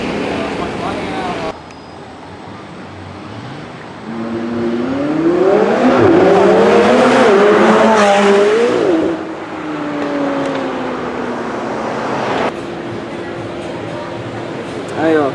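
A McLaren 720S sports car accelerates hard in a 0-100 km/h run, its engine note climbing in rising sweeps that peak loud and near before easing into a fading drone.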